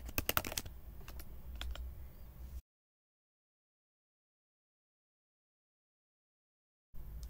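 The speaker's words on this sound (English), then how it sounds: "we go inside the project by typing cd min-max date" Keys clatter on a computer keyboard as a terminal command is typed, a quick burst of close, crisp clicks over the first couple of seconds, then a long silent gap before faint activity returns at the end.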